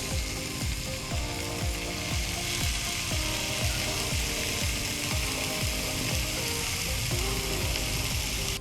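Thick-cut smoked bacon fries on a Blackstone griddle outdoors at a campsite, a loud, dense, continuous sizzle and crackle filling the whole stretch without any talk.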